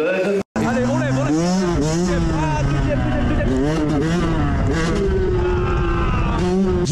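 A motorcycle ridden on a wheelie in Valence, its engine loud and continuous with rising and falling revs and shifting pitch, heard up close over a rough background roar.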